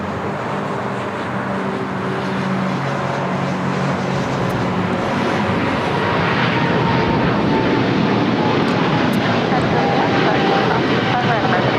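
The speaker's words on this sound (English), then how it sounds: "That American 777 now rolling down at 25 right" An American Airlines Boeing 777-300ER rolls down runway 25 right at LAX bound for London Heathrow, its engines building from a whining rumble into a loud, sustained roar, with voices talking over it.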